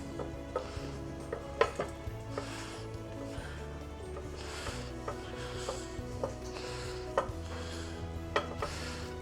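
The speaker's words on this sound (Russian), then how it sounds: "Теперь содержимое сковородки все перенесем в эту посудину" Cooked chicken liver is scraped and transferred from a frying pan into a bowl, with sporadic metallic clinks and scrapes of a utensil against cookware over a steady low kitchen hum.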